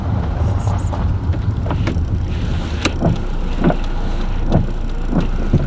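A Honda Accord EX-R with manual steering drives along, a steady low road rumble and interior hum with scattered soft knocks and clicks from inside the cabin.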